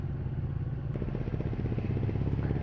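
A Triumph Rocket 3 motorcycle is being ridden, its engine giving a low, steady rumble with some light clatter and wind, all sustained and fairly even for a few seconds.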